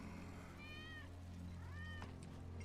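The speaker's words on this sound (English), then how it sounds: "That's Wedge's cat." A cat meows twice in Final Fantasy 7 Remake, two drawn-out plaintive calls about a second apart, heard over a steady low ambient hum of the game's background.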